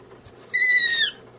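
A pet bird gives one loud, close call, a bright, harmonic screech lasting about half a second over a quiet room, with no talking.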